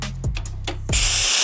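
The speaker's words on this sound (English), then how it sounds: "Next, we're gonna plug in the air compressor." An air compressor feeding a Bestarc BTC500DP plasma cutter starts a loud, steady broadband hiss partway through, after a few short clunks and tones.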